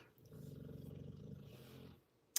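A dog snores in a long, low rumbling breath lasting about two seconds, quiet and close, ending with a brief sharp click.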